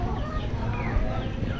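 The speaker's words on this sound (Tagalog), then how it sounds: "Ako lang may manok dito mga kalaot." Chickens clucking in a backyard coop, a short steady stretch of close, dense low clucks under wind or handling noise.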